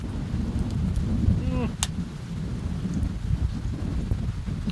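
Steady rain hisses throughout with a low rumbling wash underneath, and a brief sharp crack stands out partway through.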